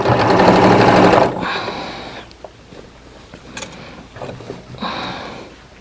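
A sewing machine stitches bulky, burlap-like linen shirt fabric along a gathering line in a loud, close burst of rapid whirring, then stops, leaving faint handling clicks and rustles before a short second whir.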